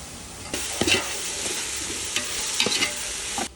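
Chopped tomato sautés with ginger-garlic paste in a pot for a cooker biryani, a steady close sizzle broken by several scraping stirs of a spoon and soft clatters, with no one speaking.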